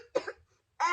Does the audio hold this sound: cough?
yes